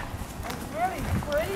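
Horses walking toward a new pasture, soft hoof clip-clops on the ground close by, with faint whinny-like squeals and a voice talking over them.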